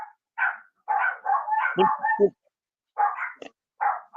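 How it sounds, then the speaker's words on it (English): A dog barks repeatedly at moderate distance in a short irregular series of sharp yips and barks, heard behind a live football discussion with no talk over the barks themselves. "Is that your dog, Jeff?"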